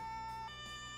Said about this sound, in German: Erstmal muss die Sirene ausmachen